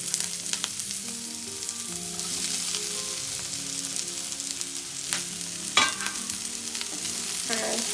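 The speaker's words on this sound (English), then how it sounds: "So now the brinjal and along with the onion, it has to be toasted for some time." Brinjal and onion sautéing on a high flame, giving a constant loud sizzle with scraping stirs and a few sharper clacks from the spatula against the pan.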